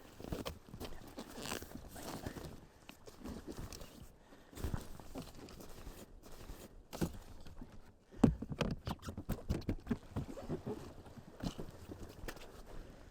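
Soft, irregular rain patter during kayak camping in a rainstorm, faint and close, with scattered taps and light rustling and no one speaking.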